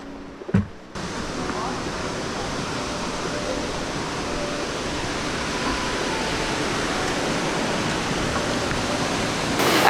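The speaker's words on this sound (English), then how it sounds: "You can see there's a nice little waterfall just down there, that's the creek." A small waterfall on the creek at Cougal Falls in Australia, heard close by as a steady, even rush of falling water that fills the whole clip after a brief knock at the start.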